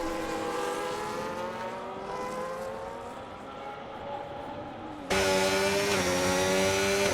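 F1 race cars from the F1 25 video game roaring down the main straight at COTA, a dense high-pitched engine whine that climbs steadily, then jumps abruptly louder as a closer car takes over with a sharp rising tone.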